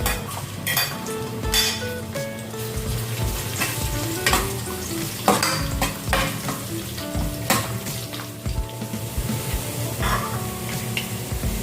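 Garlic dropped into a little cooking oil in a pan, sizzling steadily throughout while a utensil stirs and scrapes, with repeated metallic clinks and taps against the pan close by.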